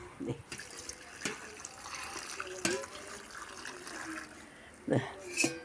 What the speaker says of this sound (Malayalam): ഈ തിളച്ച വെള്ളം ഇതിലേക്ക് ഒഴിച്ചു കേട്ടോ